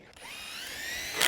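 Power drill driving screws into a barn truss during a barn remodel, a rising whine that spins up and holds steady, then gets louder at the end, close and alone.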